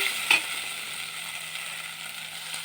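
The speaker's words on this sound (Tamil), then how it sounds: "ரொம்ப நேரம் கருக விட்டுறாதீங்க லேசாக வதக்கிட்டு" Chilli powder frying lightly in a pan for a tomato pulao gives a steady, close hiss of sizzling oil, with a single sharp tap of a utensil near the start.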